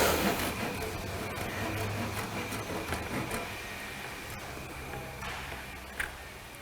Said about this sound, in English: I'll now start to cut the top of the pipe off